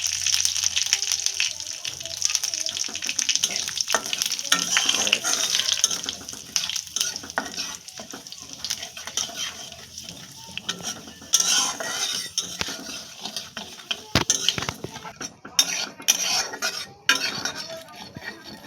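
Dried red chillies and panch phoron spices sizzle and are stirred in a pan for a spinach and vegetable dish, with a steady frying hiss and scraping and clinking of a utensil throughout.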